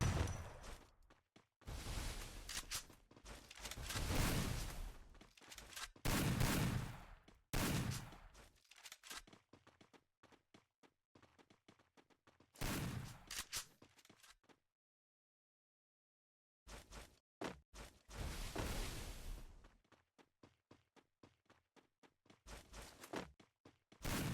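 Bursts of gunfire from shotgun-style weapons in a Free Fire 1v1 custom match, loud close volleys in rapid clusters separated by short silent gaps, with occasional thuds between them.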